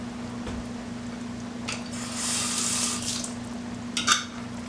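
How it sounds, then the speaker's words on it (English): Water poured into a glass jar of stewed tomatoes while making baked rigatoni sauce, a soft splashing rush lasting about a second, followed by a brief clink or shake near the end over a steady low hum. "Put a little bit of water in your jar."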